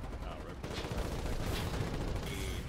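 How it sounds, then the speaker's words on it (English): Sustained rapid gunfire rattles through a War 99 battle, several weapons firing close and loud in dense overlapping bursts with no break for the whole moment. "They're backing up as they're shooting."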